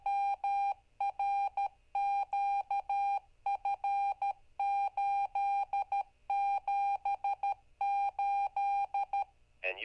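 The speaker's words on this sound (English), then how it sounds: "You can also do your call sign in Morse code like this." A GMRS/HAM repeater ID sends a call sign in Morse code, a loud clean tone keyed in rapid dots and dashes that group into repeated letter clusters, alone over faint low hum.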